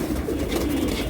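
Pigeons coo softly at a bird market where tumbler, Bezi, Chila and Gorra breeds are sold, a low steady murmur running through the whole moment with no voices over it.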